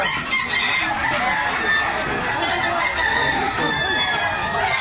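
Chickens cluck and squawk continuously in a busy, noisy chicken market, with a rooster crowing among them.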